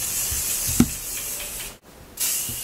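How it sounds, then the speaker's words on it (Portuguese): Hair spray from an aerosol can misted onto freshly curled hair, heard as a soft hissing spray with a brief click, then a quiet gap and another burst of hiss, close by and alone. "Jogo o spray."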